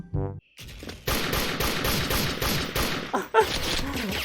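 Rapid bursts of M1 Carbine fire in the shooter game Special Force, a dense run of sharp repeated shots after a short tone, loud and close with a brief gap near the end before firing resumes.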